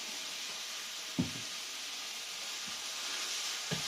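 Noodles with onions frying in a pan as wine and sesame oil go in, a faint continuous sizzling hiss with a few soft clicks of utensils.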